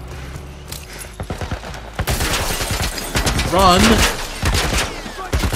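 A .50 caliber machine gun fires in The Last of Us video game. Loud, rapid bursts crackle continuously while a voice shouts over them.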